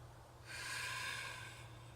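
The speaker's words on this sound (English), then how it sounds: "Breathing in and breathing out." A long slow breath during a gentle beginner yoga class, a soft airy rush that rises, holds for about a second and fades, quiet and alone.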